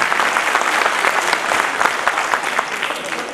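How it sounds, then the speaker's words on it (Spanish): Sustained applause from a crowd for a folk ballet troupe at a festival in Samacá, steady and dense clapping throughout with no pauses. "vamos a darle un fuerte aplauso al ballet folclórico"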